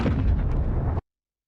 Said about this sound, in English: Cannons firing.